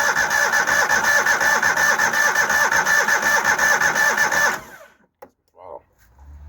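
A small engine from a farm auction starts with the choke set, running with a rapid, close, steady putter for about four seconds before cutting out into near silence with a few faint knocks.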